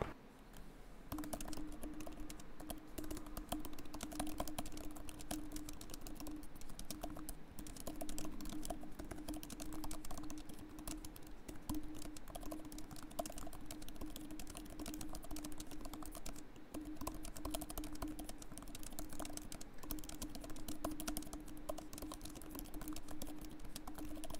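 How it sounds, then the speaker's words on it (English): Rapid, continuous clicking of an M1 MacBook Air keyboard being typed on, close and fairly quiet, keeping a steady rhythm for the whole stretch with no talking. "Now let's hear the sound test for this MacBook Air keyboard."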